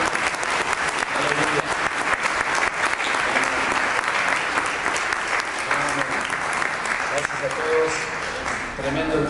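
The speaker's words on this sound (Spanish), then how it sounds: "vamos a dar un aplauso a todos los hermanos que nos ayudaron." Sustained, loud applause from a church congregation thanking the helpers who painted the upstairs floor, dense steady clapping filling the whole stretch with a few voices mixed in.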